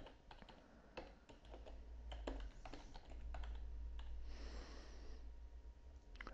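Quiet keys clatter on a computer keyboard as a short note is typed, an irregular run of soft close taps with brief pauses and faint breathing underneath.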